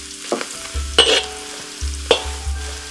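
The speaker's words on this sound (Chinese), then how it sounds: "先热锅，再倒油。 先把香菇煸香。" Shiitake mushrooms sizzle in hot oil in a wok, crackling steadily up close while a utensil stirs them in a few sharp scrapes and clanks.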